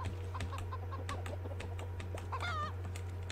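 A chicken in the survival video game Raft gives a brief run of clucks near the end, over a steady low engine-like hum and light tapping sounds.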